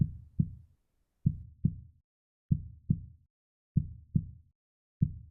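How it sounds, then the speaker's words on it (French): Slow, steady heartbeat for a guided meditation, paired soft low thumps repeating about every 1.2 seconds, close and clear against silence. "Concentrez-vous quelques minutes sur ces battements de cœur."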